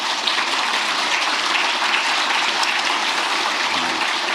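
Audience at a presidential meeting of public officials breaking into steady, dense applause from many hands, a loud even roar that carries on unbroken for several seconds with no talk.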